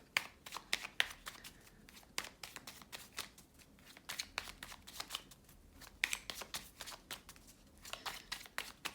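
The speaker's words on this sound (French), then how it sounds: "Alors, on va tirer une carte." Cards are handled and drawn from a deck during a card reading, with soft riffling, sliding and crisp snaps of paper cards close by, quiet and irregular, with no speech.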